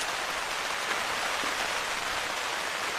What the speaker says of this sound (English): We had almost no rain at all for the first 2 weeks, and now, last night and now.